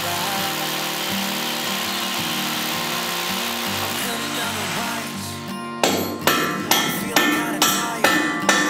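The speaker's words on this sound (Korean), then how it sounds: "상부 슬래브에 H빔 고정용 12mm 외지 앙카를 박아줍니다" Hammering 12mm anchor bolts into a concrete slab to fix an H-beam during a house renovation: a steady mechanical drone gives way to about six sharp, evenly spaced metallic blows, loud and close.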